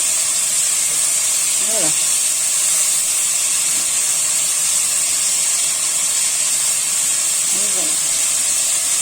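Merguez sausages hiss in a pot as they are turned, a steady close steam-like sizzle throughout, with a woman's brief remarks over it.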